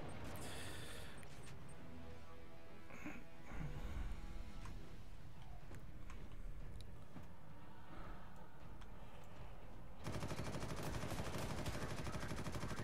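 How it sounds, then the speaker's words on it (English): Rapid gunfire in Warhammer 40,000: Eternal Crusade crackles continuously as dense automatic bursts under a busy battle din, turning into a sharper, faster rattle near the end. "I started shooting first."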